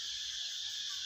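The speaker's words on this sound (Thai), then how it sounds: "เนี่ยเสียงจักจั่นนะคะ" A dense, steady high-pitched buzzing drone of cicadas fills the morning air, continuous and even throughout, with no other sounds standing out.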